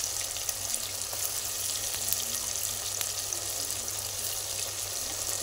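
Ginger garlic paste sizzles steadily in a pan while vegetable pulao is cooked, a continuous close hiss and crackle with a few faint clicks and no talk.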